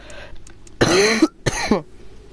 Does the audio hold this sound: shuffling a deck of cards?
no